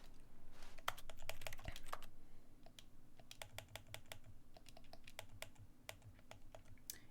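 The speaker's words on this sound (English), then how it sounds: "I believe this had to do with typing on the keyboard." Keyboard typing in the video game The Stanley Parable: Ultra Deluxe, a long run of quick, close key clicks in irregular bursts over a low steady hum, with no talking.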